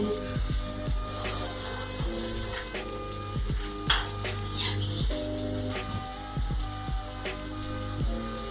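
Prawns cook in garlic butter in a hot pan with a steady, close sizzle that runs the whole way through under rhythmic background music.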